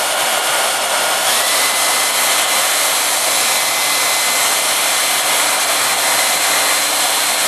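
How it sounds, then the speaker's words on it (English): A hairdryer blows steadily and loudly and close by, heating Sno Seal waterproofing on a leather sheath, with a constant broadband whoosh and no pauses. "I'm gonna put the hairdryer on."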